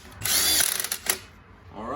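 An impact or power drill runs lug nuts down with a 3/4 socket while a Miniskid SK800 track is reinstalled, giving one loud whirring burst of about a second, then a short second spin, close by.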